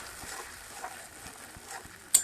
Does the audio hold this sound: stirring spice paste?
yes